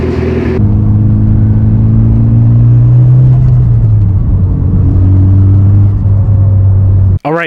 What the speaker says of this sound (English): I'm gonna go drive the car, get a few miles on it